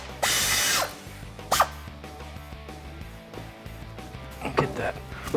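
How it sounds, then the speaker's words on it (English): A ratchet wrench works loose a brake caliper bolt on a 1994-2004 Ford Mustang during a coilover install, giving a long burst of clicking followed by a few shorter ratcheting bursts close by, with mechanical clatter in between. "We're gonna take out the other bolt for our whole caliper."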